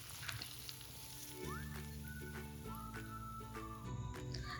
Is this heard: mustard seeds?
yes